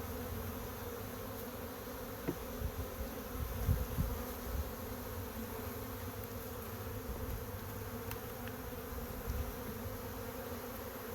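Confused honeybees swarm in the air around a hive that has just been moved, a steady, even buzzing hum with no voices, close by and constant.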